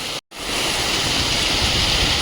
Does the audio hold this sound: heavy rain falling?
yes